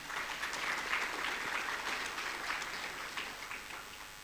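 An audience at a budget breakfast applauds a judge, the tax ombudsman: sustained clapping from many hands, moderately distant, fading slightly toward the end.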